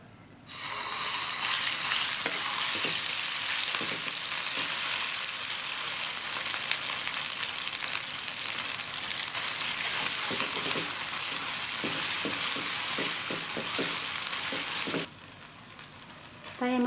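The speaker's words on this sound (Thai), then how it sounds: "ตั้งกระทะและใส่น้ำมันพืชลงไปนะคะ น้ำมันพืชร้อนแล้วก็ปริกแกงลงไปพัดให้หอมค่ะ" Loud, steady sizzling of Thai green curry paste stir-frying in hot vegetable oil fills the clip, with occasional scraping stirs, before the sizzle cuts off near the end.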